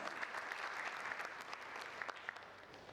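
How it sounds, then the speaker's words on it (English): An audience at an Indian food and nutrition conference gives a round of applause: a faint, distant patter of many hands clapping that holds steady throughout, with a few sharper claps standing out near the end. "Can we have a huge round of applause?"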